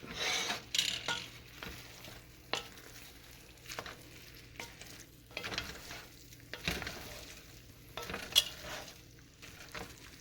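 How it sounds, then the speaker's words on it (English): A spoon stirs jambalaya rice in a pot at an outdoor junkyard cook, making intermittent scraping and clattering strokes over a soft background sizzle. "I'm just going to give it a stir."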